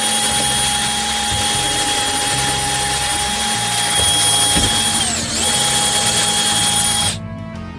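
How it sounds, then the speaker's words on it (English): A power drill whines loudly and steadily in a garage, its pitch dipping briefly once mid-run before it winds down and stops near the end. "So I have to put drill again."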